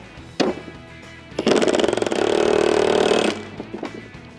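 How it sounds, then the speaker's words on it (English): A Milwaukee impact wrench, called a rattle gun, fires once in a loud, close burst of hammering rattle lasting about two seconds, preceded by a short blip and followed by quieter clatter. "A Milwaukee. We call it rattle gun."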